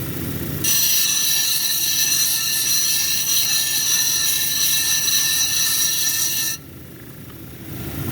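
A Sarape jasper cabochon being ground and domed on a grinding wheel, a steady high whining grind with harmonic tones running for about six seconds, starting and stopping abruptly over a low motor hum.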